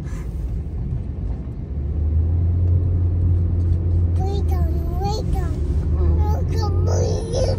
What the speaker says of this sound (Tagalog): Sasakyan na yan, parang jeep.